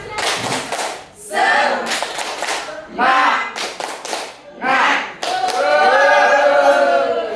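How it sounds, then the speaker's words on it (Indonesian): Schoolchildren in a classroom perform a rhythmic spirit clap, bursts of sharp group claps alternating with chanted voices in several short phrases, ending in a sustained sung or shouted line. "Tepuk semangat."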